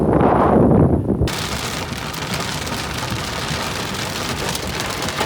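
A dense, loud patter of hailstones and rain pounds a surface at a barn during a thunderstorm in a steady roar, with a low thunder rumble briefly at the start.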